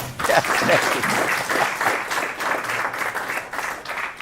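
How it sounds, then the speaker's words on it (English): Sustained applause from a seminar audience, steady and full, continuing throughout with dense overlapping claps and a slight dip toward the end. "put your hands together and clap"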